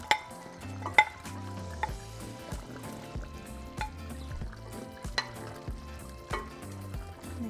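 Yellow potatoes go into a pot of simmering carne guisada beef stew: spoon clinks and scrapes against the pot in irregular bursts over a soft, steady bubbling sizzle, close and moderately quiet.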